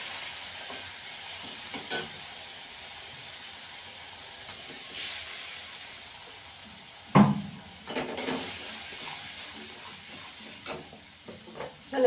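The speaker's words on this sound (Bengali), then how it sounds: "ভালো করে মশলাটাকে কষিয়ে নেব।" A spice paste of onion, ginger, garlic, green chili and tomato fries and is stirred in a pan with a steady close sizzle and hiss, while a utensil scrapes and clatters now and then, loudest around the middle.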